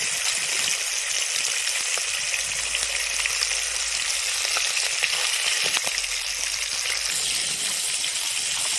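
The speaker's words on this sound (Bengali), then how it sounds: "আর মাছ আমি খুব হালকা করে ভাজবো" A steady, close sizzle of rohu fish pieces frying lightly in hot oil, with a faint bubbling crackle running throughout and no talking.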